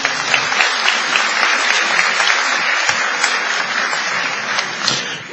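Loud, sustained applause from a sizable crowd at a 40th anniversary ceremony of Peru's 1978 Constituent Assembly, steady clapping throughout with no break.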